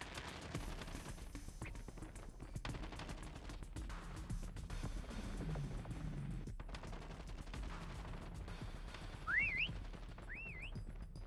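Prop hunt whistle in Call of Duty Mobile, two short rising whistle tones near the end, fairly faint over a busy background of gunfire and game noise, with no talk.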